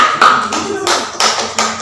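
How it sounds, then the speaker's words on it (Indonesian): Classroom applause for a student group after their performance, with bursts of clapping hands and taps that rise and fall in waves over a noisy room. "berikan tepuk tangan untuk kelompok 1 atas tampilannya"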